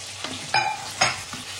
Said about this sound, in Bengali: মাছের টুকরো দিয়ে এটা একটু কষাই নিব।